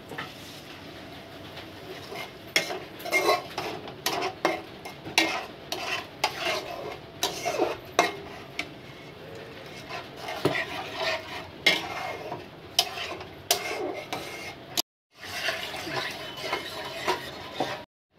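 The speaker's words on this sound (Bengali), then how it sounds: "এবার এটাকে ভালো করে কষিয়ে নেব।" Hilsa fish masala being stirred and fried in a pan, with repeated scraping and clinking of a utensil against the pan over a soft sizzle, close and steady with brief pauses.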